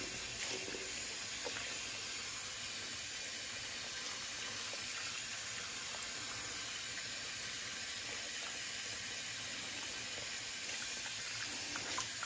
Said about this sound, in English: Wash out my brush.